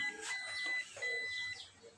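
An Epson L5290 inkjet printer giving two error beeps, short high electronic tones sounding close and fairly quiet in a small room.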